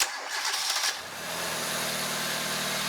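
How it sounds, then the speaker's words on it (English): A car engine cranks on the starter for just under a second during a starting-system test, then catches and settles into a steady idle, loud and close with no talk over it. "it's going to tell me to start the engine"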